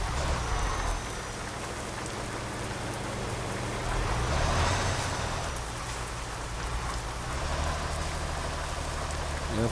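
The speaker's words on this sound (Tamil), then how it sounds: "மழை பெய்யுது" Rain falls steadily in Euro Truck Simulator 2, a broad constant hiss over a low engine hum from the truck, with no talking.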